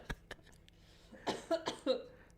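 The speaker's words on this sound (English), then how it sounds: "I'm having a coughing fit now." A short burst of several harsh coughs, close and fairly quiet, ending in a rough throat-clearing sound.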